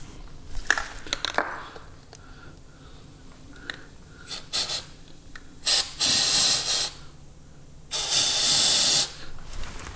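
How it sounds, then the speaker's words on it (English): Short hissing bursts of an aerosol sealant spray, starting in quick spurts and then two longer sustained sprays, with faint clicks and handling between. "make sure I'm not spraying onto the concrete."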